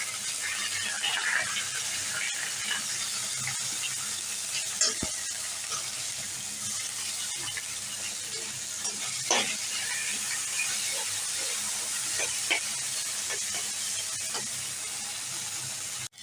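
Cumin, ginger and chilli pastes stir-fried in a pan, a continuous close sizzle with hissing steam and occasional scrapes and clinks of stirring.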